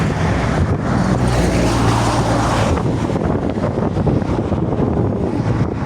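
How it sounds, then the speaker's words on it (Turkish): Strong wind buffets a microphone at a roadside, a loud continuous roar with gusting swells and the low rush of passing traffic mixed in, no talking. "Çok rüzgar var."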